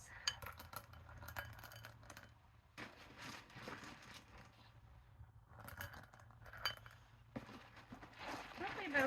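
Small stones clink and tap against a glass container as they are dropped in a few at a time, the sharp glassy chinks scattered across the clip in irregular bursts with quieter gaps between.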